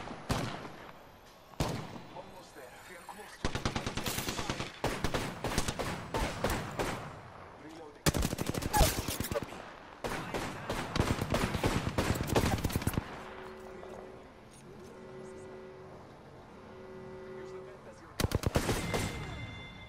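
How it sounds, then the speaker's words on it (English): Enemy gunfire in Apex Legends, with repeated bursts of rapid shots that start and stop abruptly across the stretch, alternating with quieter gaps of game sounds and tones, fairly close and loud. "The enemies are shooting at me."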